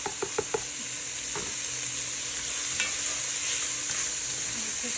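Short rib and mirepoix browning in a Dutch oven give a steady hiss of frying, with a few spoon-stirring scrapes and clinks near the start, heard close with no talking.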